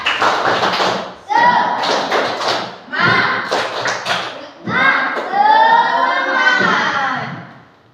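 Classroom children perform the 'tepuk semangat' spirit clap, chanting in unison while clapping and tapping in a steady rhythm. Sharp hand claps and thumps mix with the group's voices throughout.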